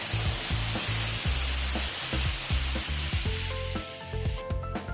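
Cumin seeds hit oil left from frying fish, giving a loud, dense sizzle with rhythmic low thumps and scrapes throughout, settling slightly toward the end.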